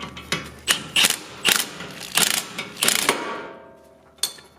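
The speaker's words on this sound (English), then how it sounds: "You can crank it with a wrench if you want." A ratchet wrench clicks in short bursts while a part is spun down during a DIY front suspension rebuild on a 1997–2001 Honda CR-V, close and fairly loud, with gaps between strokes and no speech.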